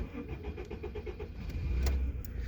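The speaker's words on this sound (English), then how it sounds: "It's not your average Civic, so start it up." An engine-swapped AWD Honda Civic cranks with a quick series of rhythmic chugs, then catches and settles into a rough, low rumble close by.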